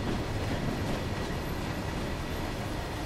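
A British Rail Class 31 diesel locomotive in Train Sim World 2 on the Tees Valley Line gives a steady rumbling run with faint rail clatter as it slows toward a station, continuous and close with no talk.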